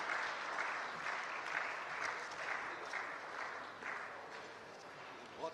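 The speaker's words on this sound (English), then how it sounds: "With a big round of applause." Sustained audience applause greets the Chief Justice of Pakistan, Umar Ata Bandial, at a ceremony, a dense steady clapping from a large crowd lasting throughout with no talk over it.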